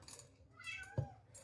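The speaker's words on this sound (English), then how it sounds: "if you hear them meowing in the background, that is my sister's cat" A single short cat meow, faint and somewhat distant, against a quiet background.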